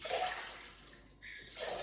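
Water poured into a Thermomix bowl makes a soft, continuous splashing rush, fairly quiet and close, with a brief lull before the pour resumes.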